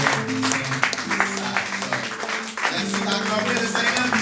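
A church congregation stands and applauds to welcome its national president, continuous clapping and cheering mixed with sustained music tones underneath, holding steady throughout.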